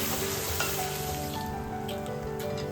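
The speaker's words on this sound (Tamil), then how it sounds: "இஞ்சி பூண்டு சேர்த்து நல்லா கிளறி விட்டுக்கலாம்" Onions with ginger and garlic fry in a pan for a spicy country-chicken dish, giving a soft, steady sizzle with faint stirring scrapes, even and unbroken, fairly quiet and close with no voices.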